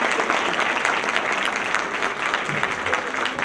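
A lecture audience gives loud, dense applause at the close of a keynote talk on personal data protection in social networks, a continuous wash of many hands that holds steady throughout.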